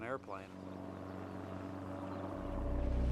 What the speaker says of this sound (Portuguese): eu estava perto da fogueira quando ouvi o barulho de um avião